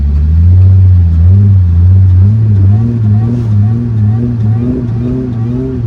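Supercharged Mercedes SLK320 with the M112K engine pulling hard at full throttle, a loud, steady low growl climbing gradually in pitch with a slight wavering rise, close and continuous with no talk.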